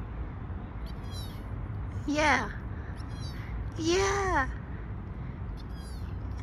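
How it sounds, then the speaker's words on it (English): Small kitten giving two loud, drawn-out meows a couple of seconds apart, close to the microphone, with soft background noise and a person speaking briefly. "Whoa, that's a big meow."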